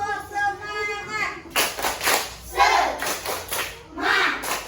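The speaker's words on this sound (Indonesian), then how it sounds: "Tepuk semangat." Schoolchildren in class performing the 'tepuk semangat' spirit clap, several sharp clapping bursts in rhythm after a teacher's spoken cue, with children's voices chanting between and over the claps.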